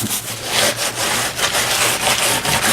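A scrub brush rubs loose vermiculite off a homemade fake rock, a loud close rasping scrape in quick back-and-forth strokes with no talk.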